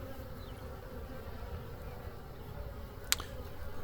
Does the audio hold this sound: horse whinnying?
no